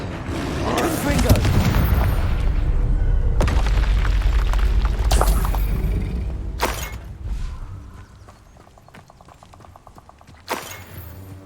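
Confringo spell explosions in the Hogwarts Legacy video game: heavy booming blasts and rumbling debris for several seconds, then sharper bursts and mechanical clatter as the noise dies down, with a voice briefly heard.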